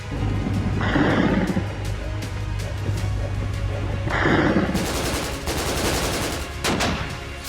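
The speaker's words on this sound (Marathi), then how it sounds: "दोन्ही देशांकडून तुफान गोळीबार" Heavy gunfire rings out in a news report on border clashes between Pakistan and Afghanistan, loud and continuous, with bursts of rapid shots over a rough, rumbling background.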